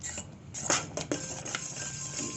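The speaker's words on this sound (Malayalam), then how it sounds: "കുറേശ്ശെ ഇട്ട് ഇളക്കി കൊടുത്തുകൊണ്ടിരിക്കണം" A spoon stirs bread pieces into custard in a pan on a low flame, soft scraping and occasional light knocks against the metal, close and quiet, with no talking.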